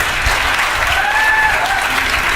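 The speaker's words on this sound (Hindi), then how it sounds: "एक बार आप इन दोनों के सम्मान में तालियां बजा दें।" Loud, close applause from a seated audience at a Teachers' Day college event, a thick continuous wash of many hands clapping for a couple of seconds with a faint tone running through it.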